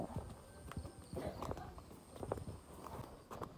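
Cows and oxen walk along a narrow village path in Gorkha, their hooves clopping irregularly close by at a low level, with some voices in the background.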